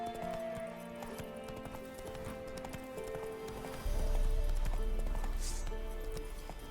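Roach the horse in The Witcher 3 clip-clops along, hooves striking in quick repeated thuds that swell into a heavier, rumbling gallop partway through, with game music in the background.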